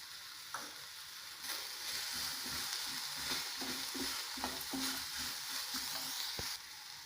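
Masala puri mixture with chopped mint and coriander frying in a pan, a steady hiss and sizzle broken by scattered clinks and scrapes of stirring, close and moderately quiet throughout.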